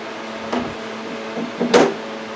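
Beef sirloin strips coated in a beef base paste are dropped into an air fryer basket, giving a few short, close clatters and bumps, with the loudest near the end and quiet pauses between them.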